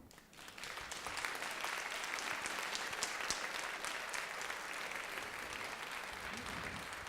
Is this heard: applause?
yes